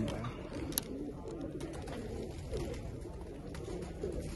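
Old-breed show pigeons coo softly and continuously in a low, murmuring chorus, with a faint flutter near the start.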